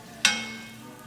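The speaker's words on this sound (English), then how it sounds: "So we're gonna saute these scallions and garlic together." Scallions and garlic hit a hot pan in one sudden sizzling burst that fades steadily over the next second.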